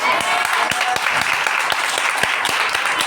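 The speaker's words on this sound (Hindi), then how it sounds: "मैंने ताली बजाने के लिए कहा" An audience claps steadily in a dense burst of applause, with a few sharper individual claps standing out above the continuous patter, close and fairly loud throughout.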